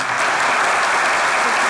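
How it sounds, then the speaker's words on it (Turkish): Dense, steady applause from an audience cheering children who have just finished a comedy sketch on stage, filling the short moment evenly with no pause. "Yeşim'e de bir alkış"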